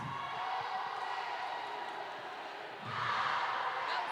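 Roller derby crowd at a Scotland vs Argentina match, a broad murmur of many voices that swells louder near the end as the spectators call back to the announcers.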